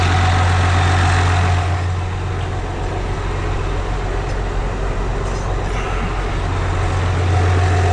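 A New Holland T8050 tractor engine runs steadily with a deep, constant rumble and drone, loud and close, during spring heavy tillage in Iowa.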